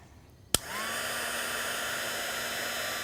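Heat tool switching on with a sharp click, then blowing a steady close whoosh with a rising whine as it melts embossing powder onto a fruit pit, no talking.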